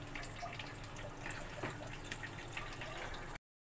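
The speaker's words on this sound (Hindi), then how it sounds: "मैं इसको इसमें पानी डाल के इसको मिक्स कर लेती हूँ" Water is poured into pakora batter and stirred, giving a steady wet splashing and dripping texture that runs close and fairly quiet for about three seconds, with no talking.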